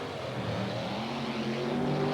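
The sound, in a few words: Nightmare race truck engine racing on track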